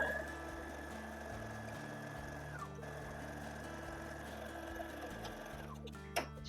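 Sewing machine running steadily for several seconds, stitching a seam on a long gown, with a brief stop and restart near the end and no talk.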